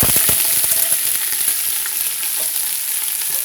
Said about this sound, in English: now that the garlic and the onions are cooking through